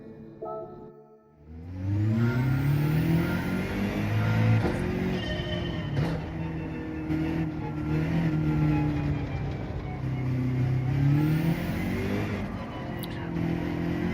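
A BMW in a racing video game, its engine starting up and then revving continuously with rising and falling pitch through gear changes, loud and sustained throughout.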